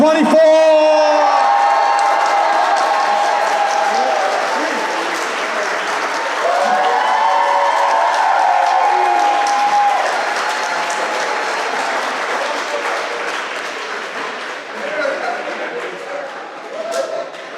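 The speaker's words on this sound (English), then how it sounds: "please join me in giving them a final, well-deserved round of applause" A large audience at a 12th grade graduation ceremony for the class of 2024 bursts into sustained applause with scattered whoops and cheers, the clapping gradually thinning over many seconds while voices carry through the crowd.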